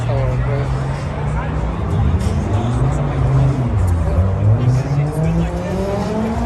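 A Lexus car drives past with a loud, steady engine note that rises and shifts in pitch, under continuous background noise and people talking nearby.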